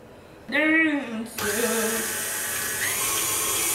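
Electric mixer with a whisk attachment beats cookie dough for massive cookies, whirring steadily and close after a brief rising whine, while a voice speaks faintly over the start.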